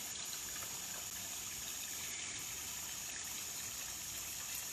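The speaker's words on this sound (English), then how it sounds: "we have a little bit of a waterfall happening" A small waterfall in a woodland stream after rain gives off a steady, soft rush of falling water, even and continuous with no voices.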